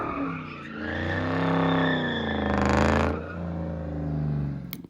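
A 2003 Ford Mustang Mach 1 revs hard and spins its tires through donuts, the engine roaring loud and close with a broad, sustained screech swelling in the middle before fading out.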